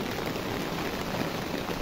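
Rain falls heavily across a rooftop and open surroundings, a uniform soft roar of drops without speech.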